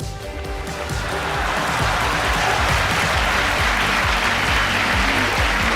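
Applause swells during a livestreamed concert with a live Zoom audience, starting softer and building into a steady, continuous clapping sound that holds to the end, with a low hum of tones beneath.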